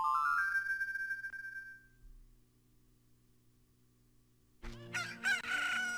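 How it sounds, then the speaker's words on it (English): A rooster-style crow rings out in The Legend of Zelda: Ocarina of Time as a chicken hatches from an egg. A bright cry fades over a low hum, then after a pause a second loud crow bursts in. "And a chicken hatched from the egg."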